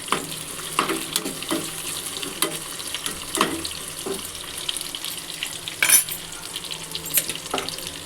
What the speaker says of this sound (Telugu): కచ్చా పచ్చాగా దంచుకున్న వెల్లుల్లి కొద్దిగా ఫ్రై చేద్దాం.